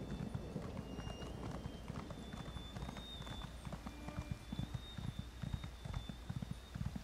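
Horse hooves in The Elder Scrolls Online clip-clop in a quick, steady gallop rhythm over a constant low rumble, with no voices.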